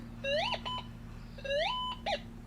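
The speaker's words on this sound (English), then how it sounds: "the gold is actually ringing quite a bit stronger than our iron target" A Gold Monster 1000 metal detector signals a gold target with two warbling electronic tones that rise in pitch, each followed by a short chirp, over a steady low hum.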